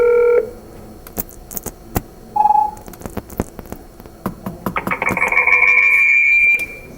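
Touch-tone dialing of a three-digit phone extension, 201, on a home phone setup: a dial tone cuts off, then short DTMF beeps and clicks sound. A louder, sustained ringing or electronic tone builds up near the end.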